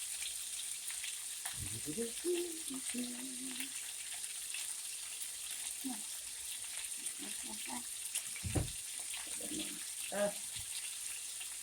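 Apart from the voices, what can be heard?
fried rice sizzling while cooking in a pan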